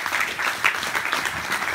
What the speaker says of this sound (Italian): Quindi vi prego di farmi un applauso, lo fate per me, lo fate volentieri.